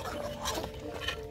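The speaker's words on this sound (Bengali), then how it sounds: "এই সময়টা আপনারা একটু সাবধানে নাড়া দিবেন" A spoon stirs nearly cooked khud (broken rice) in a pot, giving soft scraping and clinking pulses at close range with no talk.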